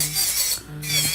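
An electric nail drill files a nail during a refill, a soft, high rasping whir that rises and dips in short passes, close and fairly quiet.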